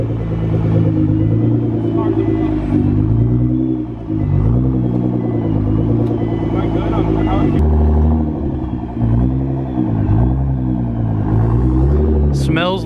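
A car engine rumbling deeply and steadily at close range, with uneven pulses and a heavy low throb that holds throughout, while people talk loudly over it.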